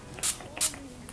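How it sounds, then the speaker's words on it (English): Maybelline Master Fix setting spray misted onto a beauty blender sponge in two short, sharp hissing bursts close to the microphone, followed by a fainter third puff. "I'm gonna spray it onto my beauty blender"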